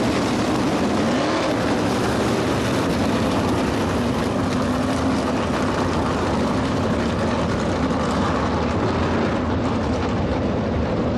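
CorrPAK sprint cars race on the dirt at Ohsweken Speedway, a loud, continuous roar of engines that swells and fades slightly as cars pass, with no speech.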